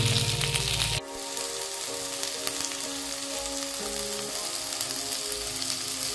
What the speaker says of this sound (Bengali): লো টু মিডিয়াম ফ্লেমে চিকেনগুলো ফ্রাই করে নেব